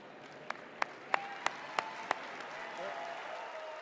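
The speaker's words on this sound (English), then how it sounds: "applauds as they leave the stage off to the right." Six sharp, evenly spaced hand claps ring out at the Democratic National Convention, faint and separate rather than a full ovation, while a voice speaks quietly over them.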